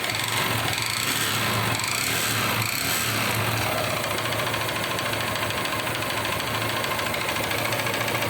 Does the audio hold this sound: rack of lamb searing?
no